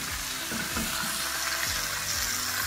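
About four large, coarsely chopped onions dropped into a hot pan, giving a loud, continuous crackling sizzle with light stirring scrapes underneath, close up.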